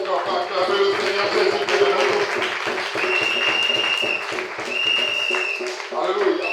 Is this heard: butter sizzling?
no